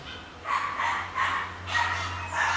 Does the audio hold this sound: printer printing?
no